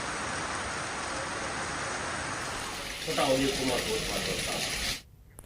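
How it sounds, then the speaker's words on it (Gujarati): Morning rain falls steadily over a town and its surrounding taluka in Gujarat, a dense even hiss that continues as a voice starts speaking over it, then cuts off abruptly. "વહેલી સવારથી નગર સહિત તાલુકામાં વરસી રહ્યો છે વરસાદ."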